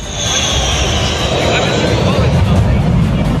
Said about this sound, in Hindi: वो तो सिर्फ इंडियन आर्मी के इन लड़ाकू विमानों का रिहर्सल है, जो बीते करीब एक हफ्ते से चल रहा है।